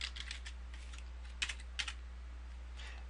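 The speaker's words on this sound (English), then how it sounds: "And then I can come down here and type a paragraph of text." Keystrokes on a computer keyboard while a paragraph of text is typed, short bursts of clicks with pauses, close and fairly quiet over a steady low hum.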